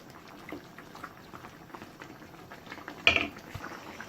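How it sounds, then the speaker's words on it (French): Lamb neck with mushroom sauce simmers in a pot, a quiet bubbling murmur with a sharp utensil clink near the end, close and low in level. "je vais laisser cuire jusqu'à ce que la sauce soit un petit peu réduite"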